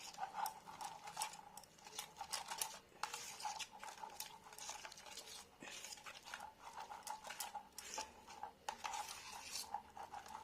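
A metal spoon stirs a spice paste of garlic, mint, salt, turmeric and chilli powder in a bowl, giving repeated quiet scraping and clinking strokes in an uneven rhythm, close and fairly soft with no talking.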